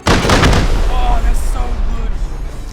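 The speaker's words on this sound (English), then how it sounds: "we even used C4 to take out the electrics" A C4 charge detonates in the survival game Rust with a loud, booming blast that rolls off into a rumbling decay over a few seconds, with voices speaking underneath.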